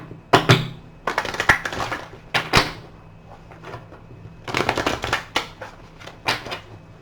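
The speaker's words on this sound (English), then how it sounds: "One more shuffle for good measure." Cards are shuffled in several quick riffling bursts with pauses between, close by and fairly crisp, with no talking.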